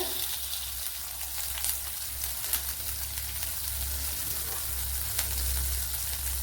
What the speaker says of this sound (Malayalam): ഇവിടെ ഒരു പാത്രം വെച്ചെടുത്തിട്ടുണ്ട് ഇതിലേക്ക് ബട്ടർ ഇട്ട് കൊടുക്കുക